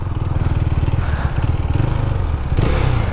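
A KTM 390 Duke single-cylinder engine thrums loud and close while riding, with a rapid pulsing beat and wind rush, and the pitch rises slightly near the end.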